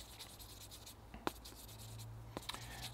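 A small eraser is rubbed along the outer side of a pruning shear blade while maintaining an ash bonsai. It makes soft, steady scratchy strokes up close, with a couple of sharper taps and no talk.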